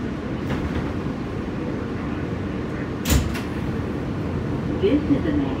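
A Manhattan-bound W local subway train in Queens rumbles steadily at a station, with a brief sharp clatter midway and faint announcement-like voices near the end.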